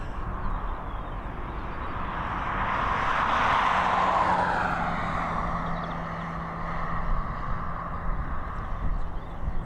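A jet airliner taking off at Dublin Airport, a broad engine roar that swells to a peak as it passes, then fades into a distant rumbling whine, with no voices.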